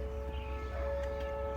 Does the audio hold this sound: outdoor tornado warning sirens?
yes